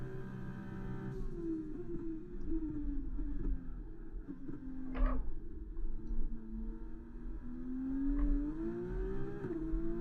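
Race cars slipstreaming in the F1 2024 video game, a continuous engine drone wavering in pitch as cars run nose to tail, with a short sharp burst midway and the tone rising near the end.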